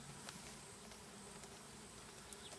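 A dense swarm of honeybees is being dumped into the bottom of a new hive box on a farm, giving a soft, steady, fairly distant buzzing hum throughout.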